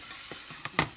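Garlic and onion frying in a pan for chile poblano en crema, a soft steady sizzle with a few brief scraping stirs, the loudest near the end.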